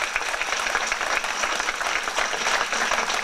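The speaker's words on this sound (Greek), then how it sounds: "Ευχαριστούμε πάρα πολύ για το χειροκρότημα" Applause from an audience at an anniversary gathering of an association, steady and dense clapping that holds at an even level for the whole stretch, with a faint murmur of voices.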